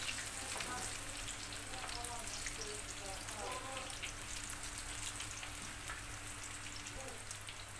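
Mixed vegetables and potatoes deep-frying in hot oil give a steady, faint sizzle with scattered crackles and pops, running alone at low volume throughout.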